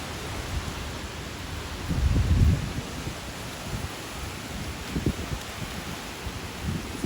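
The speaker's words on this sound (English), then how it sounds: "Supposedly 55-mile-per-hour wind gusts right now." Strong wind gusts during Hurricane Ian in Lakewood Ranch, Florida, roar as a continuous broadband rush with rustling, buffeting the microphone in low thumps, swelling around a couple of gusts, with no voices.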